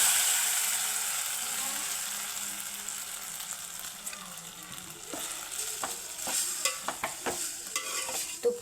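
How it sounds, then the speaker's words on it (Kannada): Sago pearls (sabudana) frying in ghee, left over from roasting dry fruits, for sabudana kheer; a steady close sizzle with scattered crackles and stirring scrapes that grow busier toward the end. "ಈ ಡ್ರೈ ಫ್ರೂಟ್ಸ್ನ ತೆಗೆದಂಥ ತುಪ್ಪದಲ್ಲಿ ನಾವು ಸಾಬುದಾನನ ಫ್ರೈ ಮಾಡ್ಕೋಬೇಕು"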